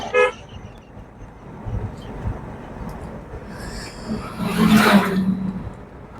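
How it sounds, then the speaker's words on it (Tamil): A car horn toots once, loud and brief, during a driving lesson, over a rumbling engine and road noise. "ஓகே ஒரு முறை ஹாரன் யூஸ் பண்ணிக்கலாம்"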